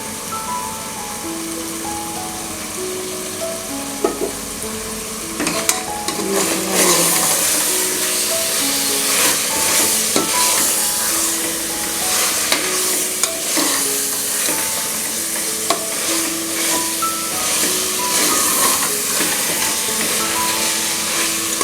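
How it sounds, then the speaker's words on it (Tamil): Mutton pieces fry loudly in a pot, a dense crackling sizzle broken by repeated scraping and clanking as the meat is stirred, close and continuous throughout. "மஞ்சள் போட்டு நல்லா வாஷ் பண்ண மட்டன் 1/2 kg சேர்த்துக்கிறேன்."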